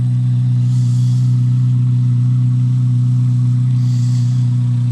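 Loud, steady low exhaust drone from a 2025 Corvette C8 Z06 in Competition Yellow, idling close by with two brief hissy swells of higher texture as it blips, no talking.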